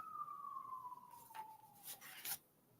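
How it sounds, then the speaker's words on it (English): An emergency vehicle siren sounds at a distance, one faint, steadily falling wail, with soft clicks and rustles near the end. "You hear this siren coming."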